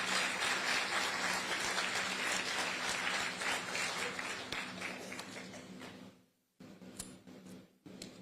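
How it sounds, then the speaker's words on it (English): Crowd applause at a ferry terminal groundbreaking in Carteret, New Jersey, steady and full for several seconds, then dropping out abruptly with a brief pause before a short burst resumes. "Give them a round of applause."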